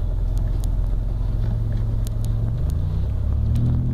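A car engine in drive holds a steady low, throaty rumble close by, with a slight rise in pitch toward the end.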